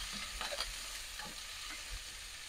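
Roast chicken sizzles in a hot pan with soy sauce as it is stir-fried quickly, a continuous frying hiss broken by soft scraping and stirring knocks.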